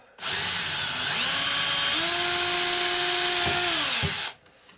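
A power drill whirs steadily for about four seconds, pitch shifting slightly as it bites into a wooden cabinet door while installing hardware, loud and close, then spins down and stops.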